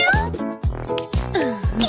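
A cat gives a rapid series of four or five close, loud meows, with some faint jingling.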